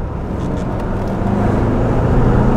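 A 1986 Porsche 928 S with a V8 engine accelerating, its deep, steady engine roar close and loud, gradually building in strength with no talk over it.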